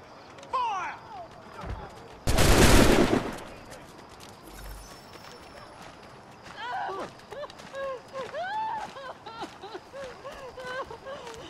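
A single loud musket volley from a firing squad in Assassin's Creed 3, one sharp burst with a short roar, followed by horses and hoofbeats while people talk nearby.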